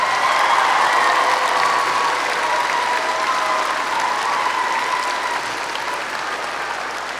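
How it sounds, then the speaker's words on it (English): A crowd of parents at a school's fifth-grade patriotic program applauds continuously, a dense steady wash of clapping that slowly fades toward the end. "So let's give them a round of applause as well."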